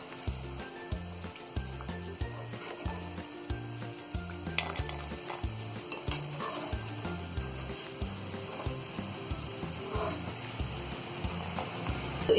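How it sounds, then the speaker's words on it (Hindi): Fish fry in oil in a pan with a soft, continuous sizzle, joined by light clinks of a utensil against the pan at fairly regular intervals. "तो इस तरह हम सारी मछलियों को फ्राई कर लेंगे।"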